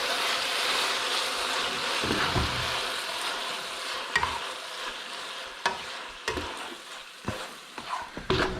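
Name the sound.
stirring silver jewfish stir fry sizzling in pan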